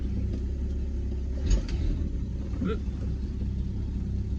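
A car engine idles steadily with a low rumble after being shifted into reverse, working through a fault where drive is lost when warm; a brief knock is heard partway through, with no talk.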